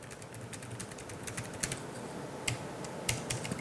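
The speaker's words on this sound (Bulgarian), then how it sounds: "толкова много съм свикнал с механичните клавиатури, че имам чувство, че от години не съм ползвал мембранна" Quick runs of soft, muffled keystrokes from a wireless 2.4 GHz membrane computer keyboard, tapped at an uneven pace with a few louder clacks, heard up close in a quiet room with no talking.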